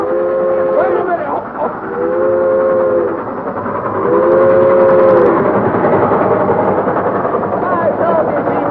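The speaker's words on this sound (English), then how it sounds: "Well, stop the train." A train rumbles along while its whistle sounds three separate sustained blasts, and people talk over the rolling noise.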